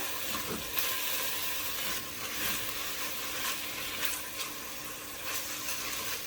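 Finely chopped and crushed garlic sizzling in a pot of oil for a cheese minestrone, a steady close frying hiss with occasional crackles and soft stirring scrapes throughout.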